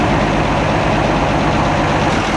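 A 1962 Comet engine idles steadily and close by, a continuous low rumble with an even running note and no voices.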